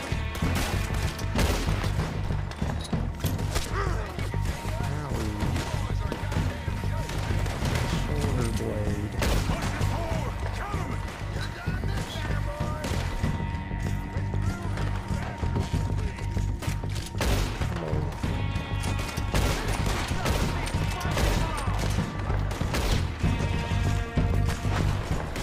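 Gunshots ring out in Red Dead Redemption 2, scattered cracks and impacts over a continuous dense game soundscape of music and effects, with a player speaking occasionally.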